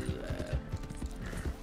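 Horse hooves clip-clop in a video game, a steady, even run of soft thuds set against a low background hum.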